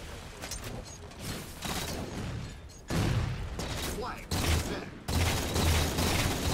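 Gunfire from a Halo 4 Capture the Flag match on the Harvest map, bursts of shots and booms recurring through the stretch, mixed with game ambience and someone talking over it.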